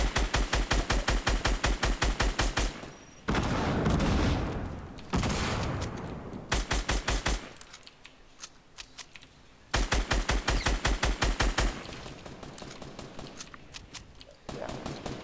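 Rapid bursts of automatic gunfire from a battle royale game, loud and close, with repeated rattling volleys broken by short gaps and louder explosive stretches, continuing throughout.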